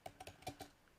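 Quick keystrokes on a computer keyboard, about six soft close clicks in a fast irregular burst, quiet and without talk.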